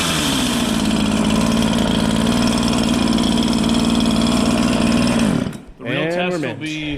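A chainsaw with low compression runs at a fast, steady idle, a loud buzzy rattle held for about five seconds before it cuts out, then a voice speaks.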